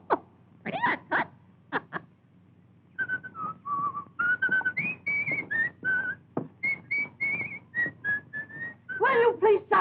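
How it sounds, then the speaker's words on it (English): A man whistling a wandering, melodic tune in short and sustained notes, close and clear, after a few brief breathy sounds at the start. "I can't whistle at night because you want to sleep. I can't whistle in the daytime because it bothers your nerves."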